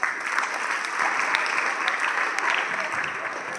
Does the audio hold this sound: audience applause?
yes